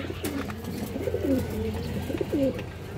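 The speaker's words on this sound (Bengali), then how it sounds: "আরও একটা মাদি কবুতর, এটা লাল খাকি মাদি কবুতর দর্শক" Soft, throaty coos from a red khaki female pigeon repeat a few times in quick succession, close by, over a low steady background hum.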